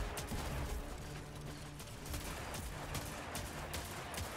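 Gunfire rattles continuously during the Last Wish raid fight against Morgeth, the Spirekeeper, in Destiny 2, with rapid overlapping shots and sharp bursts over a dense, steady game soundscape.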